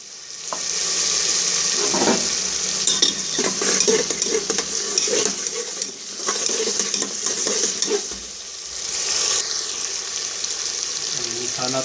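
Masala sizzling in a pan after chopped green chillies go in, with a steady hiss of frying under repeated spoon scrapes and stirs, close and continuous with brief swells.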